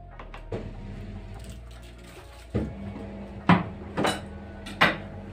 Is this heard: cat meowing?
no